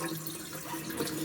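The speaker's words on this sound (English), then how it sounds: "I'm going to pour that straight in the sink." Dirty, mud-like water from a Bissell Crosswave floor cleaner tank being poured into a sink, a short, steady close-up gush and splash.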